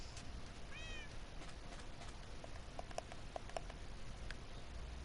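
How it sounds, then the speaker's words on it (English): Cat meowing faintly in the background as picked up through a headset microphone, a brief rising call under a steady hiss, followed by a few light ticking taps. "You're hearing your cat through my microphone."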